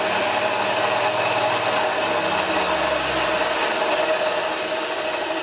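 A refurbished Hoover Model 725 upright vacuum cleaner runs with a SEMO bag fitted and the bag inflating, giving a loud, steady, unbroken motor roar with no talking.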